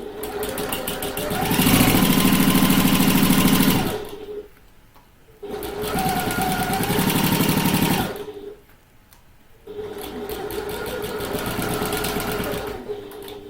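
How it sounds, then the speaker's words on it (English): A sewing machine stitches along the star-shaped edge of a handbag in bursts of fast, even whirring, pausing twice between runs, loud and close with no talking. "we're going to sew along this star edge with our usual 3/8 of an inch seam allowance"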